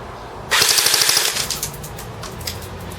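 A JG G3 airsoft rifle on an 8.4 volt large-type battery fires a rapid full-auto burst through a chronograph, a loud mechanical ratchet of about a second, followed by a few scattered single clicks.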